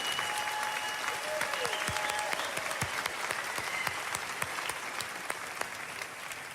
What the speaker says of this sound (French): Applaudissements pour Daniel Ganser